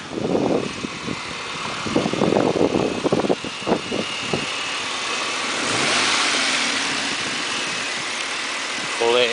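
The engine of a 1996 Nissan Maxima GXE fitted with a cold air intake runs and revs up, a steady mid-pitched hum with voices in the first few seconds before it settles into a continuous drone.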